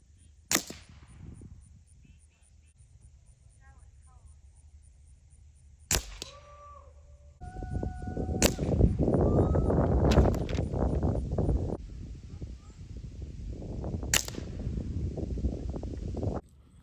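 A .22 air rifle being sighted in at 20 yards fires several sharp, loud cracks spaced a few seconds apart outdoors, with a breezy background and handling noise between the shots.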